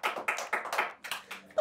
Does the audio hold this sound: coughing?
no